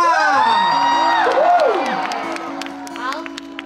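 A crowd at a New Year's Eve countdown concert cheers, screams and whoops in welcome of a performer. The sound is loud and dense, with shrill high voices rising over a steady roar before easing off slightly toward the end.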